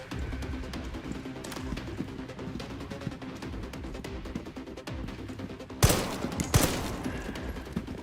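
Enemy gunfire in the survival horror game Resident Evil Requiem, a steady low rumble of distant shots broken by two sharp, loud cracks near the end, with no talking.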